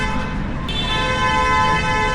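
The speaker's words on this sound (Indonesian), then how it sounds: "kalian dengar klakson kan?" A car horn honks on a busy Melbourne street, a sustained tonal blast that comes in partway through and sits over steady road and traffic noise.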